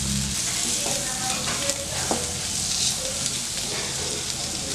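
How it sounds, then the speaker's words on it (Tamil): Pieces of a root vegetable frying in oil in a pan, a steady close sizzle with occasional faint clinks of a spoon or spatula, alone without voices. "இது ஒரு 2 நிமிஷத்துக்கு மட்டும் இந்த மாதிரி ஃப்ரை ஆகிட்டு இருக்கட்டும்"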